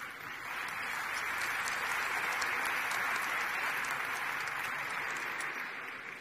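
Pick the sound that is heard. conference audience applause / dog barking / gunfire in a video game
conference audience applause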